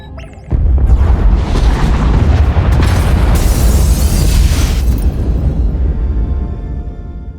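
Pod bays blown apart in Star Wars: The Old Republic, a sudden loud explosion that erupts after a brief quiet start and rolls on as a heavy, rumbling roar, with a sharper crackling burst midway before slowly fading.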